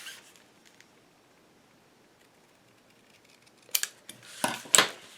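Scissors snip paper for a cottage garden scrapbook album page after a long quiet stretch, giving a few sharp close cuts near the end.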